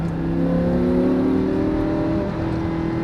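A Lamborghini Huracan's engine pulls hard on throttle on a race track, its harmonic tones climbing steadily in pitch as it accelerates, close and loud with no talk over it.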